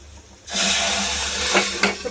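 Dal poured into hot tempering bursts into a loud, hissing sizzle after a short quiet moment and keeps spitting and crackling close by, with no one speaking.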